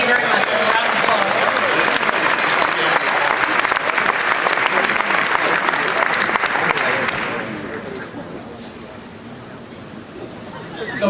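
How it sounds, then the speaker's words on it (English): Loud, dense applause from a conference audience after a software sneak-peek presentation, sustained for about seven seconds before fading into quieter room noise. "Round of applause."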